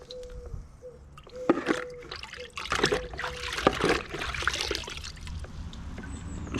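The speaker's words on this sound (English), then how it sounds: "I'm going to give that one more rinse" Water trickling and splashing while parts of a Wagner XVLP 5000 paint sprayer are rinsed, a steady running flow with gurgles and small clatters of parts, close up.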